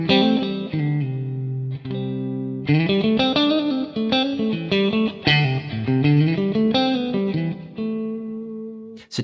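A clean-to-lightly driven electric guitar through a Two Rock Bloomfield Drive amp with mid boost off plays chords and short riffs, with a scooped, bright, Fender-like tone and some ringing sustain.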